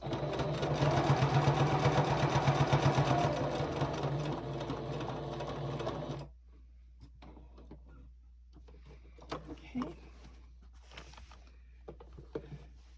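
A sewing machine stitches binding onto a fabric table topper, running in a fast, steady mechanical chatter for about six seconds before stopping, followed by quiet handling noises and faint clicks.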